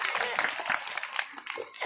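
Kirtan audience at a Bhagwat gathering in New Ashok Nagar, Noida claps for the singer, a short dense burst of applause with voices mixed in.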